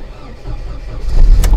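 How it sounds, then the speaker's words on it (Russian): A car engine catches after a jump-start, a brief crank and rumble that swells into a louder, rising run near the end, heard close by. "Две машинки сведены, прикурены."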